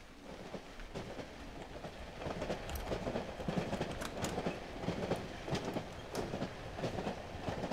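A train in the Cry of Fear video game rumbles steadily, with rhythmic clattering clicks of the wheels on the rails, loud and close, heard alone for several seconds.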